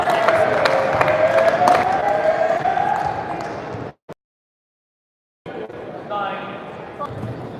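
Indoor crowd at a para-badminton international final cheers loudly and steadily, with shoe squeaks and a shuttle struck, cutting off to silence for about a second before the arena noise and another surge of crowd sound return.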